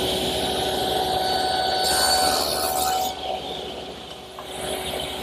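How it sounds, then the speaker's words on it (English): A table saw runs steadily while tenon shoulder cuts are made on wooden pieces guided by a miter gauge. A loud, continuous motor whine fills the clip, thickening briefly mid-cut and easing toward the end. "I'm going to use my miter gauge to guide the pieces through, making a shoulder cut on each side."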